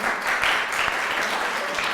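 Audience applause at a Mother's Day community event in Sydney, steady dense clapping from a crowd, moderately distant and even throughout the short stretch.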